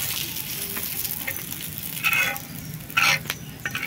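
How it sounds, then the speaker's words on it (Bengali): Snake gourd slices sizzle in oil in a covered pan, a steady close frying hiss with a few louder crackling bursts and light stirring clatter, no voices. "ডিশ ঢাকনা দিয়ে ওই একই ভাবে চিচিঙ্গে গুলো ভেজে নেব"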